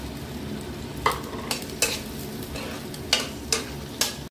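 Onions frying in a pan with ginger and garlic paste being stirred, a steady sizzle under periodic scraping strokes of the spoon.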